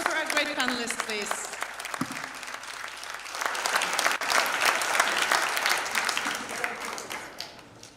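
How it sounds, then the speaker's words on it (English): Audience applause for a conference panel fills the room, dense and steady throughout, with voices and cheers mixed in, especially early on. "Round of applause for our great panelists,"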